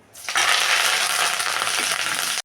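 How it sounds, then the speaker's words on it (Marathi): Curry leaves dropped into hot oil for puffed-rice chivda erupt in a loud, sudden, crackling sizzle that stays intense and steady for about two seconds before cutting off abruptly, close up. "कढीपत्ता तळून घेऊया"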